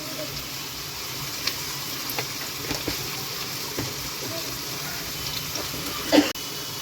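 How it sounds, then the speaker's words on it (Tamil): Onions and tomato sauté in a pan, a low, continuous sizzle with faint scraping stirs and a brief clatter near the end, with no talking. "இது இன்னும் கொஞ்சம் நேரம் வதங்கட்டும்"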